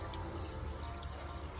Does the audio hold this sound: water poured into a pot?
yes